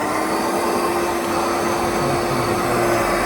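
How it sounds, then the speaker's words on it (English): An air blower on a koi pond filter system runs steadily and loudly, a constant whooshing roar with a low hum, unbroken for the whole stretch with no voices. "switch the air blower on"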